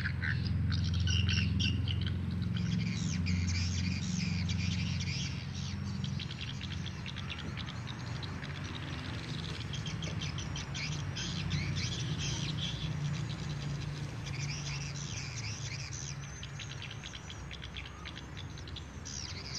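Swiftlet call recordings played inside a swiftlet bird house, dense repeated high chirps and twitters layered over a steady low hum, continuous and moderately loud throughout.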